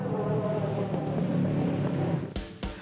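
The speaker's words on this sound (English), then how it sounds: "Davies pushes hard through turn 8 and moves ahead of Gearing as they race for the flag" Racing cars at a historic motor race roar past on the track, a steady engine drone with a couple of sharper passes near the end.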